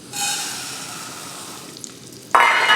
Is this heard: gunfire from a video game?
no